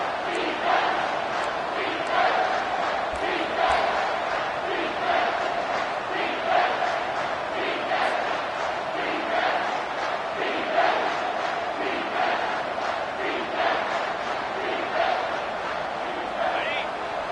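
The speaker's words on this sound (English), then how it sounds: "And the crowd coming to life here, trying to help this defense down in the red zone." A football stadium crowd roars steadily and rhythmically as the defense holds in the red zone, a dense sustained swell of many voices with a commentator talking over it.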